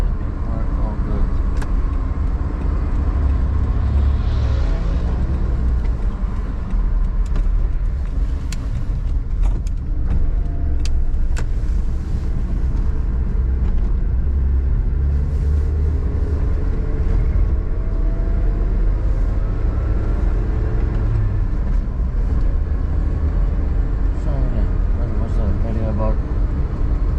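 A Suzuki Jimny 1.3 is heard from the driver's seat on the road in light wind, with a loud, constant low engine and road rumble and wind noise throughout.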